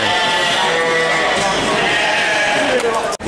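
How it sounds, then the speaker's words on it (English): Sheep bleating at a livestock market or farm in England, a dense chorus of overlapping calls filling the scene continuously and fairly loud, with a brief thump near the end. "And over there are all the sheep again."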